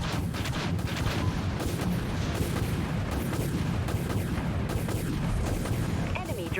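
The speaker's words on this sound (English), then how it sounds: "Torpedo launched." A torpedo launches and explodes in the naval battle game Dreadnought, with heavy rumbling booms and dense blast noise rolling continuously and loudly beneath overlapping voices and game chatter.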